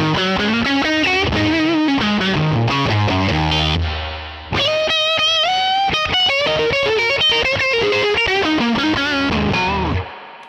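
A distorted electric guitar through a Universal Audio amp plugin plays a driving riff with heavy cranked-amp crunch, pausing briefly near the middle before resuming loudly.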